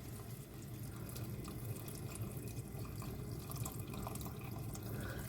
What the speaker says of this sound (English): So top that up with water.